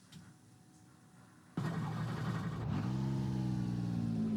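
In the iRacing sim, a Porsche 991 RSR's flat-six engine fires up after a quiet moment, holding a loud, steady note that settles into a higher, even drone.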